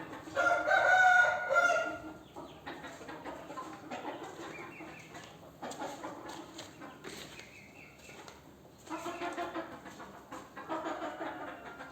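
A rooster on a treadmill crows loudly once near the start, followed by softer clucking and fowl calls over a quiet background.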